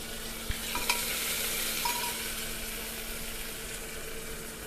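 Tempering (phodni) sizzles steadily in a pan as it is stirred for homemade dal, a continuous frying hiss with a couple of faint utensil clinks near the start, close and moderately loud.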